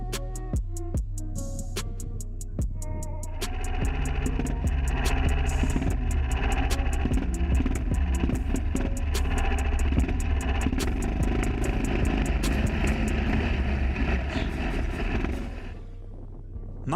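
A motordog sled engine with a CVT variator is pulled to start, catches and runs with a rapid, buzzy small-engine putter, close and steady, fading out at the end.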